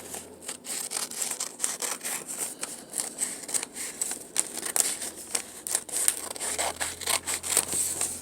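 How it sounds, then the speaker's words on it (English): Scissors slice through folded paper for a unicorn puppet craft, close up, with a rapid series of crisp snips and crinkly rustles and no speech. "I'm going to keep it folded so I can cut this line."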